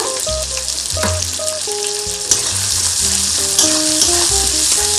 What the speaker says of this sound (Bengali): ভালোভাবে পেঁয়াজটা ভেজে নেব।